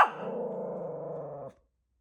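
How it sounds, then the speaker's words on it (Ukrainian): A single drawn-out dog vocalization, close and fairly loud, held for about a second and a half with a slowly falling pitch before cutting off to silence. "А я думаю, що ти там гавкаєш."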